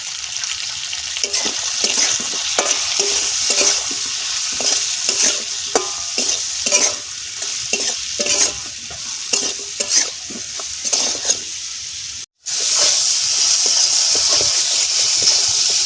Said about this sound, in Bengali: ইলিশ মাছের আলু বেগুন ভালো করে কষাই করে নিয়েছি